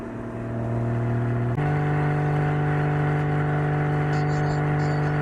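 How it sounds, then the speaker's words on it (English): A Porsche 981 GT4 engine drones steadily while driving on quiet morning roads, a loud, close, sustained tone that steps up in pitch once, as after a gear or throttle change. "You're enjoying the dulcet tones of the shop GT4. It's a 981."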